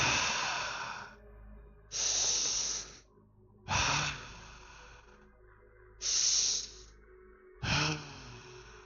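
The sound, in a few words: deep breathing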